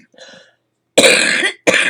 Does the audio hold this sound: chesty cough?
yes